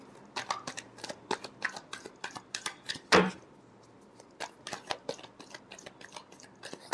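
Tarot cards shuffled by hand in a quiet room during a reading, a rapid run of crisp, close riffling flicks with a brief louder burst partway through.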